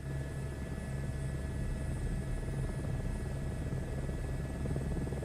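A helicopter flies in Microsoft Flight Simulator, its rotor and engine drone holding as a steady, loud, even hum with a low rhythmic throb throughout, alone with no voices.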